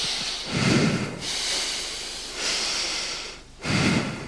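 A person breathes in and out through the nose, long airy inhales and exhales alternating in a slow rhythm, close and clear with no talking.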